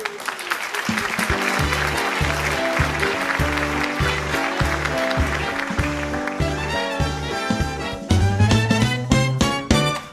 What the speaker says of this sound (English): let's have a warm round of applause for Franklin C.